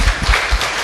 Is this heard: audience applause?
yes